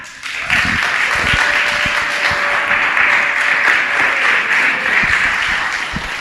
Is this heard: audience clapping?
yes